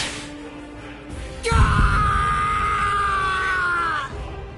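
A man screams in pain in the Bleach Rebirth of Souls video game, a loud sustained strained yell after a sharp impact, holding for a few seconds before cutting off.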